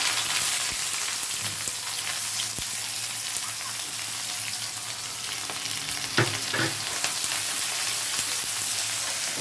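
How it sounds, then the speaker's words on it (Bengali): Chopped onion frying in oil with five-spice (panch phoron), a steady broadband sizzle throughout with a brief louder burst of spattering midway, no talking. "সেই সময় আমি এই কুচনো পেঁয়াজটা তেলের মধ্যে দিতে হবে"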